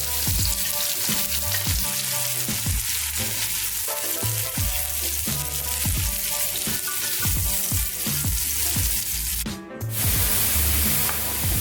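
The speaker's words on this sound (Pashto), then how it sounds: "پیاز به سره کړو." Onions frying in oil in a pot while making Charsadda-style thick rice, a steady close sizzle and crackle running throughout with occasional stirring scrapes.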